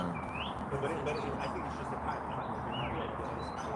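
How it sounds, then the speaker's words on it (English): Birds chirp and tweet in short, high calls outdoors at a softball game, fairly faint over a constant wash of background noise and distant murmuring voices. "these birds are making very nice sounds"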